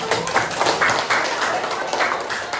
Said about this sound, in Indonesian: kita kasih tepuk tangan dulu untuk kelompok 1